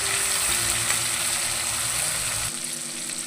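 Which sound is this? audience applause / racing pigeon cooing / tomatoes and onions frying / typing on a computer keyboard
tomatoes and onions frying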